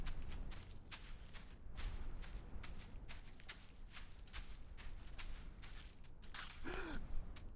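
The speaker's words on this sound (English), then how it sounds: "I liked his ultra-realistic gasp." A character in the video game Baby Steps lets out a short, breathy, realistic gasp near the end, over a steady bed of rushing game ambience and scuffing footsteps.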